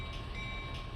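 ES44DC diesel locomotive in the Run 8 train simulator game, a steady low engine rumble with a sustained whine above it, close and even throughout the brief moment.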